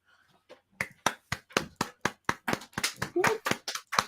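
Hand claps land in a fairly regular, quickening series after a few soft opening taps, close and distinct rather than a broad wash, like a small live studio audience applauding.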